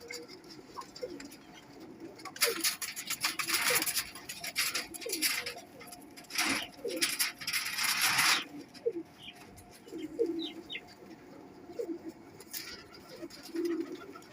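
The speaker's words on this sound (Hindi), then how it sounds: "बहुत अच्छे ये कांटों वाले कबूतर हैं" Crested pigeons coo softly in short, repeated phrases nearby, with bursts of wing flutter and rustling in between.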